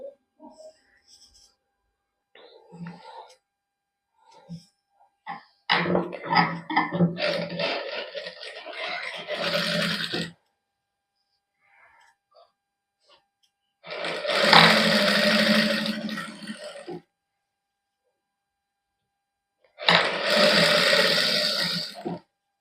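A sewing machine stitches lace onto a suit in three loud, close bursts of rapid whirring, separated by quiet gaps with faint sounds.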